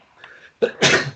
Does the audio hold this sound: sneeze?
yes